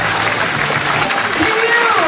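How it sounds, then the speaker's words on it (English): Dense, steady applause from an audience at a corporate entertainment event, close and loud, with scattered voices in the crowd. "Huge round of applause!"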